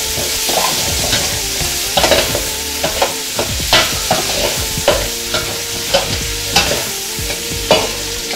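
Onions and garlic frying in a pan for a Basque-style chicken, with loud, continuous sizzling close up. Repeated scraping and clacking strokes of a spoon stirring come in a fairly regular rhythm, and no one speaks.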